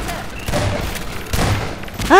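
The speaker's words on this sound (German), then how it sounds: "Granate. Ja, genau, explodiert von meinen Füßen." A grenade explosion in Half-Life 2: Episode One bursts out amid a busy, noisy mix of gunfire and battle sounds, loud and close.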